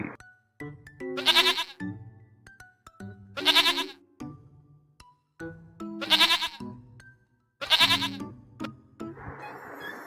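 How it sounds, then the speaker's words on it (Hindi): A goat bleats four times in a steady, evenly spaced series, each call a loud, wavering nasal cry heard alone with no talking, ending in a short burst of noise. "goat"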